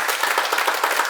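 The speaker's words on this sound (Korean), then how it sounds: "박수로 한 번 더 보내주세요." Audience applause in congratulation at a Korean talk session, a dense, steady patter of many hands clapping together, loud and close throughout with no voices over it.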